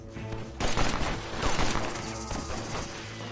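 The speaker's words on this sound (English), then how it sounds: "Still, the Mauser pistol is really accurate" Rapid bursts of Mauser pistol gunfire in the video game Red Dead Redemption, a loud, dense volley of shots with crashing impacts that lasts almost three seconds.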